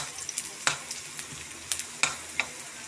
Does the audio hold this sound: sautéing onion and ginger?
yes